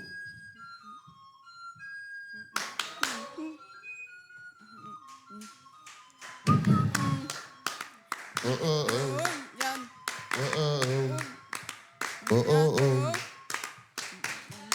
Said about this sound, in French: On peut applaudir très fort pour Habib Toum.